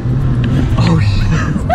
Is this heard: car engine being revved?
yes